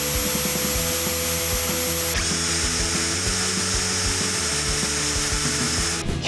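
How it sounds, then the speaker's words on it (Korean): A Milwaukee M18 FQID2 cordless impact driver and a standard impact driver run in turn, each giving a loud, continuous whirring hum with rapid ratcheting impacts, alone and close. "일반 임팩트 드라이버 드릴 베스트셀러와 미러키 FQID2의 소리를 잠시 비교해 드릴게요."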